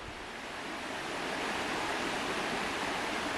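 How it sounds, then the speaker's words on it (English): A river flows steadily beside a campsite in Pisgah National Forest, a continuous broadband rush of water that holds even and fairly loud throughout, with no voices over it. "we'll be sleeping to the sound of the river"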